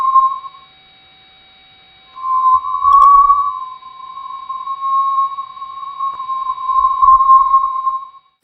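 A spacecraft recording of the Sun, sonified from changes in high-charged particles, plays as a steady high electronic tone with faint overtones, briefly dropping out then returning with slight wavering and low rumbles beneath.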